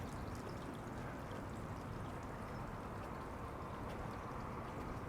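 Steady, continuous rush of flowing water fills the scene at a cemetery, a constant broadband wash with no breaks and no voices.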